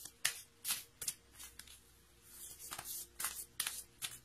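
Oracle cards being shuffled by hand during a card reading, quiet close papery flicks and slaps in irregular bursts, about a dozen in all, with no talk.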